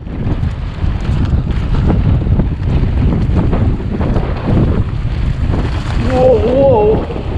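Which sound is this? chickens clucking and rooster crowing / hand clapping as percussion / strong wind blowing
strong wind blowing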